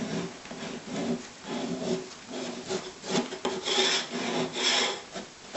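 Scraper pulling softened paint off the side of a hot, steamed wooden window sash, close repeated rough scraping strokes of uneven length, with no talk.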